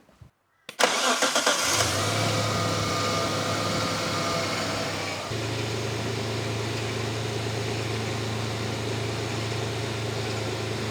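A Mitsubishi Pajero engine cranks briefly, fires up and settles into a steady, loud idle that continues without talk.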